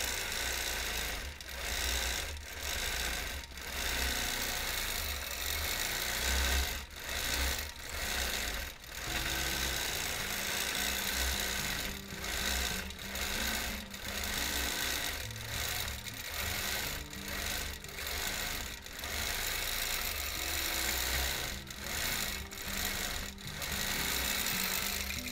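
Home sewing machine quilting a small wholecloth quilt, a steady fast motor whir with rhythmic needle stitching that pauses briefly several times, continuous and close.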